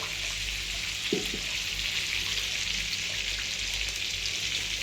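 A full packet of butter melting in a pan for paneer ghotala gives a steady, close, even sizzling hiss throughout, with one brief soft knock near the start.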